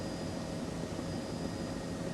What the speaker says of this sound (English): Jim, can you hear us up there in the helicopter?